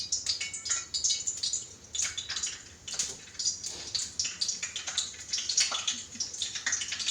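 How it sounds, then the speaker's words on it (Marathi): Cumin seeds hit hot oil and sizzle with a dense, continuous crackle and spatter, steady and close, with no voices. "तेल गरम झालेले, जिरं टाकून घे."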